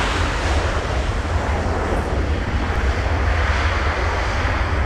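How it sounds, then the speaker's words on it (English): Boeing 757 airliner passing at a snowy winter airport, its engines a loud, steady broadband roar with deep low rumble that fills the whole span, mixed with some wind noise on the microphone and no talking. "my favorite narrow-body aircraft ever built. It's the Boeing 757."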